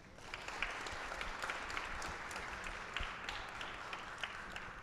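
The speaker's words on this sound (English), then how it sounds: "Please give a round of applause to the teachers" Applause for teachers rises from an audience at a global AI hackathon event, a soft, steady wash of clapping heard at some distance, continuous throughout without speech.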